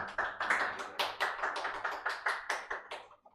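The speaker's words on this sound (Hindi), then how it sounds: "ताली मारने का." Students in a classroom clap their hands in a quick, even run of about a dozen sharp, close claps that ends abruptly.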